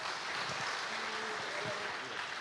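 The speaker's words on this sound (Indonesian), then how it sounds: "Tepuk tangan untuk Tuhan." Faint audience applause at a church gathering, a soft, even patter of clapping with a few low murmurs or voices mixed in beneath.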